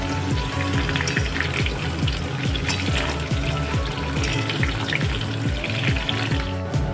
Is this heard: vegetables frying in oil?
yes